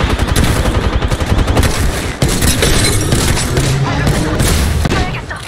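Loud, continuous rapid gunfire in a sci-fi shooter video game, dense machine-gun bursts and booming shots filling the whole stretch, with voices speaking under the barrage.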